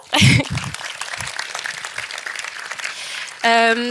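Audience applause at a French public science talk, greeting the speakers: a short burst of clapping, then a lighter wash of claps, followed at the end by a tonal sound.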